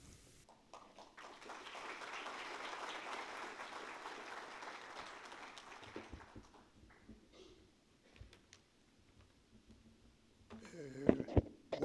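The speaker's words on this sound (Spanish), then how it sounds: "Muchas gracias por ese aplauso a todos" Audience at a book launch applauds in a steady, moderately distant round of clapping that swells and then dies away, followed by scattered taps, rustling and a voice near the end.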